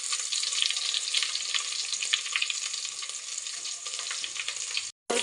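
Onion and curry leaves fry in hot oil with a loud, dense, continuous sizzle and crackle close by. The sound cuts out for a moment near the end.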